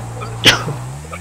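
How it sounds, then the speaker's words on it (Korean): A single sharp sneeze bursts out once, close and loud, during a GTA 5 gaming session, with a low steady hum running underneath and no talk around it. "재채기 죄송하고요."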